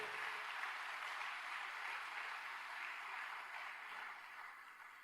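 A church congregation claps in a dense, even wash of applause that holds steady and slowly fades slightly, heard from a distance without talking.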